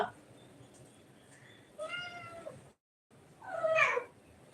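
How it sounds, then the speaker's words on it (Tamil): Kittens meowing for food in two distinct cries, a thin wavering meow followed by a louder, higher one, over low background noise. "எல்லாம் பூனைக்குட்டிகள்லாம் சாப்பாடு வேணுமா?"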